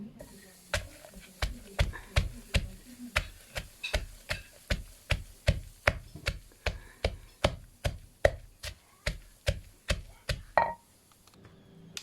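Pestle pounding tuna chili paste with roasted giant water bug in a mortar: a steady rhythm of about twenty-five dull thuds, close and evenly spaced, ending after eleven seconds.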